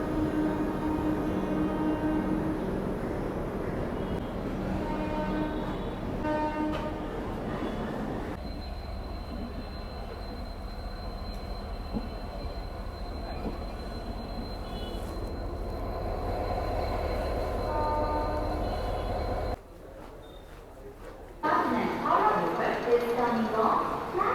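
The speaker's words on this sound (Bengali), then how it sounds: "আর এই হচ্ছে আমার ট্রেন রওনা দিলো শালিমারের দিকে" A nearly empty train on the Puri–Kolkata route pulls out toward Shalimar, a low rolling drone with wheel squeal and rattles that gives way to a quieter spell, then a louder burst of clatter near the end.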